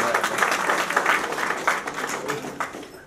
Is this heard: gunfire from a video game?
no